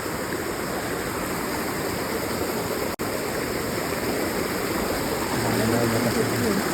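Clean water pours down from above near Jatashankar temple in the Junagadh forest during heavy rain, a steady, close, rushing roar that holds evenly throughout with one brief dropout.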